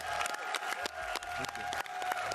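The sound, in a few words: audience applause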